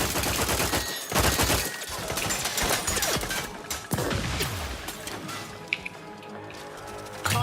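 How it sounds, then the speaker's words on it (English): Rapid gunfire bursts and clattering weapon handling in the video game The Outer Worlds, dense and loud at first, then thinning into scattered shots and mechanical clicks. "We are shooting back changing magazines efficiently and in short order"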